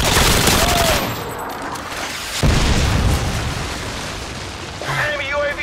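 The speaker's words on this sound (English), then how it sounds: "Friendly Predator missile inbound." A Predator missile strike in Modern Warfare 2 lands as a loud, close boom, and heavy gunfire and rumbling blasts continue through the whole stretch.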